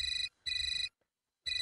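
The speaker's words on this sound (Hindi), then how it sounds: "अरे अब किसका फोन बज रहा है?" A mobile phone ringtone in a Hindi TV serial scene sounds as repeated bright electronic tone bursts, three rings with pauses between them, loud and alone.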